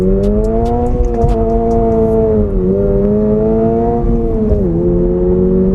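Toyota GR86 held in second gear through a drift, its engine droning at a steady high pitch with slight dips as the revs shift, loud and close from inside the car, with no talking.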